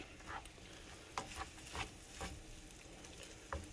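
Chicken fried rice frying in a pan, with a faint sizzle and soft scraping stir strokes at an uneven rhythm, no talking.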